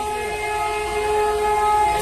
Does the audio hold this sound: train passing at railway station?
yes